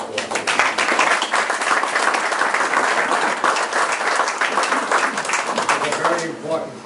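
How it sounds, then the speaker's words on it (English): Audience applause at a public announcement of a veterans program, a dense, loud burst of clapping from a crowd that carries on steadily throughout. "I'd just like to give them a round of applause"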